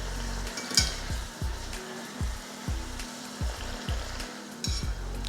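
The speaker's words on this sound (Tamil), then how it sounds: "பொன்னிறமாக வர வரைக்கும் நல்லா பொரிச்சிட்டு எடுத்துக்கோங்க" Puris deep-frying in hot oil until golden, a steady close sizzle and bubbling with repeated bursts of crackle as the dough puffs, no talking.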